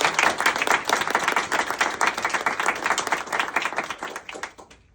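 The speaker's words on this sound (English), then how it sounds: "if we could just give her a round of applause." An audience claps at a scholars' event, a dense loud round of applause that begins at full strength and tapers off near the end.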